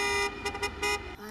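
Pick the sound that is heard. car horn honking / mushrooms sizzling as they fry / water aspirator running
car horn honking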